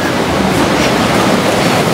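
Calm ocean waves wash below a seaside restaurant in Rosarito, Baja California, a brief, fairly loud, steady surf rush heard up close without any talking.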